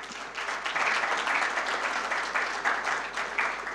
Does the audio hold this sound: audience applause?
yes